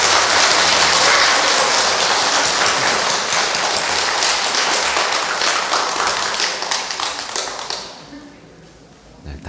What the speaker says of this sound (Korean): 박수로 환영해 주시기